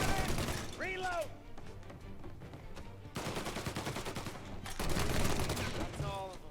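Gunfire rings out in Mafia: Definitive Edition, repeated shots and bursts mixed with game effects, loud and continuous under talking voices.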